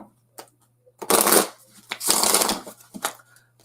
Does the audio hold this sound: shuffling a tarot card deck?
yes